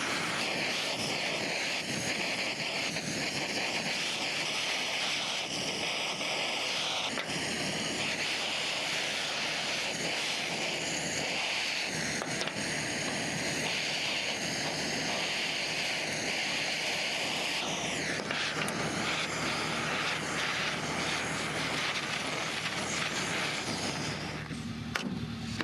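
A torch heats old spark plugs that are laid out from a long-abandoned car, giving a loud, continuous roaring burner noise that holds steady and then cuts off near the end.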